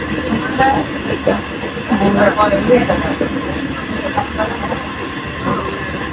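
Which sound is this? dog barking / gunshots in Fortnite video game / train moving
train moving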